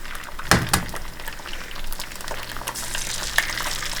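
Organic eggs frying in a nonstick pan as they are basted, a continuous close sizzle with a few sharp pops and spatters early on, no talking.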